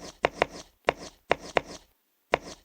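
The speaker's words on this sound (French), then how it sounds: "Écoutez, écoutez bien comment je coupe." Knife chopping food in a relaxing mini game: five crisp cutting thuds in an uneven rhythm, close and clear, with short gaps and a longer pause before the last cut.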